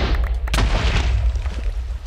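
A Vex grave goes off in a Minecraft queue fight with a sharp, loud explosion: one burst of noise that fades into a rumbling, crackling tail.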